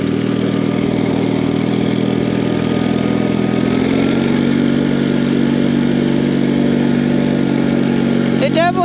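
A 36-year-old Wheel Horse 417A box garden tractor with 1,256 hours, burning some oil, runs at a steady, close, mid-pitched idle with a faint clatter, continuous and loud.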